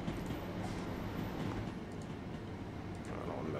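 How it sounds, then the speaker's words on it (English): A long AI-driven train rolls past in the Train Sim World 2020 simulator on the East Coastway line, a steady broadband rumble of wheels and cars holding at even loudness throughout, with faint voice traces underneath. "AI train coming in. That's a long train right there"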